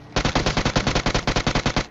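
A UMP submachine gun in a video game fires one sustained automatic burst of about twenty evenly spaced, close and loud shots, with no voices.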